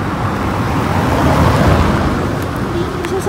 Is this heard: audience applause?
no